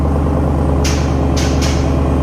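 A Ram TRX pickup with an AWE aftermarket exhaust idles with a deep, steady rumble, close and loud, with a couple of brief hissy bursts over the constant low drone.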